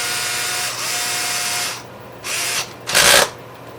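An electric driver on its lowest ratchet setting drives an M3 by 10 mm aluminum screw, whirring steadily for under two seconds, then giving two short, louder ratcheting bursts as the clutch slips.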